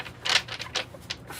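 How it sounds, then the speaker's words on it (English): A tarot deck being shuffled by hand, giving a few quick broadband card slaps and rustles in an irregular rhythm, close and moderately quiet with no voice. "Let's give it a quick shuffle"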